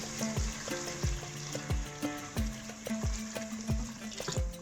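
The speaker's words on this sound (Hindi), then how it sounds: "अब इस स्टेज पर हम इसमें पानी ऐड कर देंगे।" Water runs steadily into a pot of chicken kofta curry, a continuous splashing pour with soft gurgling pulses repeating through the stream, close and fairly loud with no talk.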